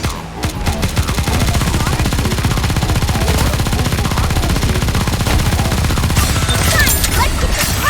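Sustained machine-gun fire from the NIKKE shooter game, a loud unbroken stream of fast shots lasting the whole stretch, with a voice heard over the firing.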